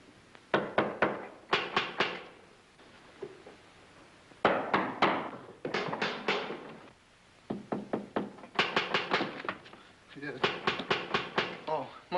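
Men tap and knock on walls searching for trap doors, bursts of rapid knocking in several clusters, close and sharp, with brief pauses between them.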